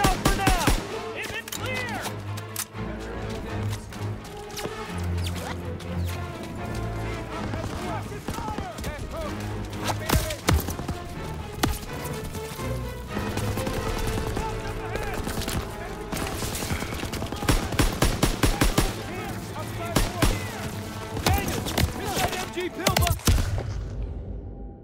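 Dense machine gun fire rattles through a Call of Duty WW2 battle, continuous bursts mixed with heavy booms and battle noise, with voices shouting over the steady, loud barrage for the whole stretch.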